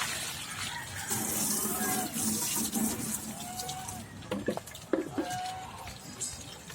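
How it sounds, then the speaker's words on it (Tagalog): Water running from a tap while dirty animal drinking water is changed outdoors, a steady splashing flow with a few clanks of containers being handled, fairly faint. "Papalitan ko muna po yung tubig nito mga kaubayan kasi marumi na."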